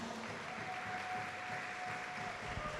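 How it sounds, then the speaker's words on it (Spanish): A church congregation applauds together, a steady wash of clapping that holds at an even level throughout with a faint sustained tone running underneath. "Dale un aplauso al Señor."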